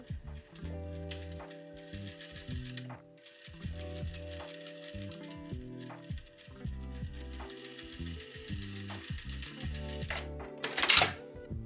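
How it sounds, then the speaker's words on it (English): A sewing machine edge stitches the top of skirt pleats in stop-and-go bursts of rapid mechanical clatter, with rhythmic motor hum changing pitch between runs and a brief louder rattle near the end, close by and without talk. "Next, edge stitch the top of the pleats in place so that they stay pressed in the correct direction."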